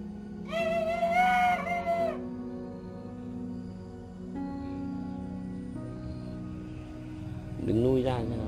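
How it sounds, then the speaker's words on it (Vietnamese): A rooster crowing: one loud, harmonic crow near the start, a second crow beginning near the end, with low background hum and voices in between. "Gáy đấy, bắt đầu đừng gáy đấy."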